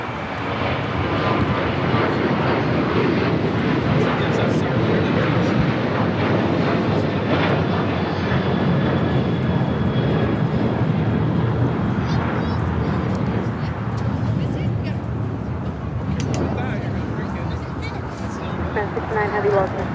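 An airliner takes off from runway 25 right at LAX, a loud continuous jet engine roar filling the whole stretch with a broad rumbling wash, while radio voices talk over it.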